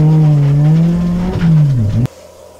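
A race car at a Northern Speed time attack event goes off track, its loud engine droning with a falling pitch as it slows, then cutting off abruptly into quieter rumbling.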